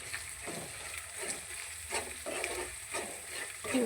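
Salt being stirred into a gongura (sorrel leaf) dish with green chillies in a pan, giving soft repeated scraping strokes over a steady low sizzle, close up with no talking.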